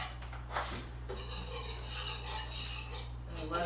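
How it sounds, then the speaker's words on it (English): A whisk scrapes and clinks against a metal pan while a flour roux is worked for a spinach artichoke cream sauce, with quick continuous stirring strokes under a steady low hum. "I will whisk that in real quick"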